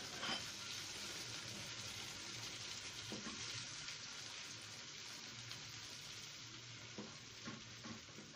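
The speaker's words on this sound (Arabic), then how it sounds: "وانزل بقى بالطماطم" Tomatoes sizzle and fry in a pan with small-cut eggplant, a steady broadband hiss with occasional stirring scrapes, close and loud throughout without any talk.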